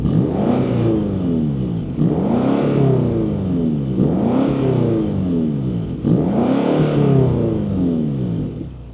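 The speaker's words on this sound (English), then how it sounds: "Since it's a V8, let's listen to how it sounds." A BMW X5M V8 engine revving hard four times in a row, each blip rising quickly and falling back, close and loud, with no talk.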